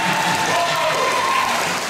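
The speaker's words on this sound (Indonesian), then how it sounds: "Tepuk tangan dulu dan sepakat ya" Brief burst of clapping from a church seminar audience, a dense patter that fills the whole moment before fading slightly.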